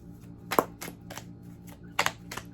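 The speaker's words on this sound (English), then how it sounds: "I'm sitting here shuffling the cards all weirdly." Tarot cards being shuffled by hand, soft papery riffles and taps in a few short bursts, close and quiet with pauses between them.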